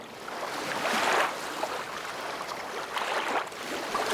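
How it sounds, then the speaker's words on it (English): Water splashes and swishes in slow surges, like paddle strokes pulling a small boat through shallow water, with a steady wash of surf behind. "All of a sudden, Pirate Blue could hear someone paddling ashore."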